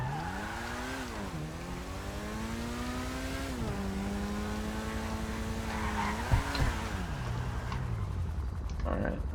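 A Ferrari 488 EVO sports car in the FiveM game revs close by, its engine tone swelling and dipping in pitch as the throttle rises and falls, continuous throughout.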